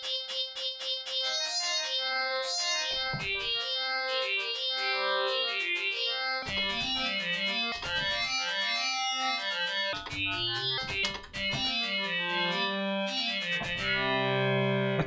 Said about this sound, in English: Let's try detuning oscillator 2.